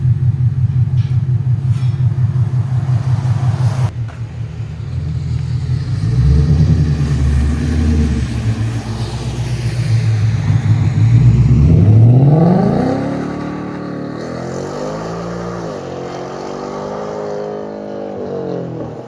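A 2024 Ford Mustang GT with a 5.0L V8, mid X pipe, Flowmaster Outlaw mufflers and stock tips rumbles at a loud, burbly idle, then revs up in a rising sweep and falls back to idle, close and alone.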